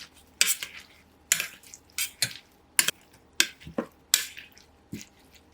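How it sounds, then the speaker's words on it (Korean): A utensil stirs a seasoned cucumber mixture with tuna sauce, black sesame, raw sugar and oligosaccharide syrup, giving six or seven sharp clicking scrapes at a steady rhythm, close and clear with quiet gaps between them. "잘 섞어주세요."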